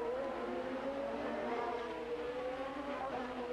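IndyCar race cars scream through chicanes, with engine notes rising and falling as they brake and accelerate through the corners, loud and continuous.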